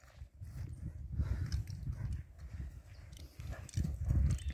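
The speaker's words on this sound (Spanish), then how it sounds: "Tiene futuro, el caballo está bien." A young chestnut pony moves about quietly, its low hoof thuds and shuffling coming in uneven bursts, close by and soft, with no talking.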